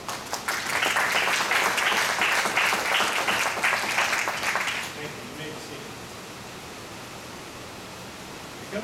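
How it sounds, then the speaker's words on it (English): Audience applause fills a ceremony hall at an Eagle Scout Court of Honor, a steady loud wash of many hands clapping for about five seconds before dropping off to quiet room tone. "Let's give them a round of applause."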